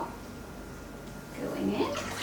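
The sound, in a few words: hot coconut oil being poured in for soap making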